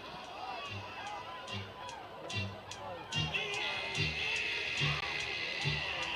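Crowd noise at a high school football game between LaGrange and Whitewater, a steady murmur of spectators with scattered shouts and rhythmic stomping or clapping, loud and continuous throughout.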